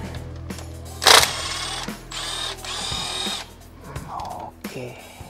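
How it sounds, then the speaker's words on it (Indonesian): An impact wrench on speed 1 runs in short, loud, whirring bursts with pauses between them, nearby in a workshop during work on a Mitsubishi Lancer CK4 engine swap. "Saya mau coba pakai impactnya. Oke. Ini di speed 1."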